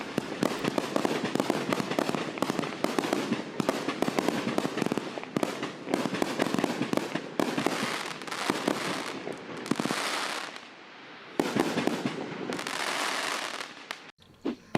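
A Volt 72-shot compound firework cake fires a long, dense barrage of loud cracking bursts and pops with no pause, briefly thinning near the end before a final flurry, with no voices.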